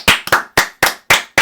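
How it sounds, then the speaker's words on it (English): A single person claps six times in a quick, uneven rhythm, each clap sharp and close to the listener, with no voices, given as a brief round of applause for baseball player Matt Chapman. "Quick round of applause for Matt Chapman."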